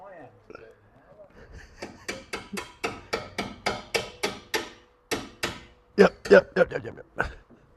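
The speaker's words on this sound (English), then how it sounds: "I just need to hammer it out again" A race car part is hammered out in a garage, a run of about fifteen sharp, evenly spaced metallic blows, close and loud, ending with a few heavier irregular strikes.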